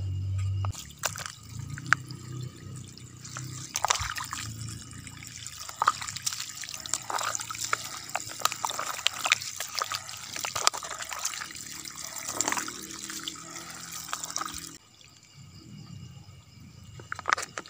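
Water trickles and splashes steadily onto plants being watered, with irregular drips and gushes across the whole stretch before easing off near the end.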